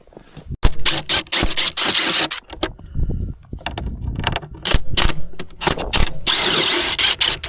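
A power drill removes the dash screws on a Ski-Doo MXZ snowmobile, giving repeated loud bursts of whirring drilling separated by short pauses and small handling clicks.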